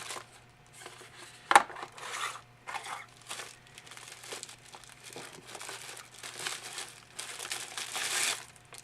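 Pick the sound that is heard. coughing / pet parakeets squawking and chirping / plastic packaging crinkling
plastic packaging crinkling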